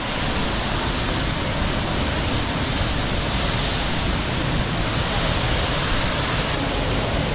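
A waterfall on the way to Horanadu roars close by as a dense, unbroken wash of rushing water, loud and constant throughout.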